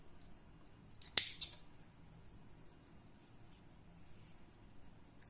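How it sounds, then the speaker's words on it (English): Scissors snip through crochet yarn once on an orange Halloween pumpkin appliqué, a sharp close click followed by a softer second snip, then quiet. "cutting the yarn"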